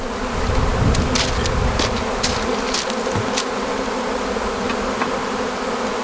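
Honey bees buzzing steadily and loudly close by at an opened hive during a spring inspection, a continuous droning hum with occasional sharper wing flicks, no voices.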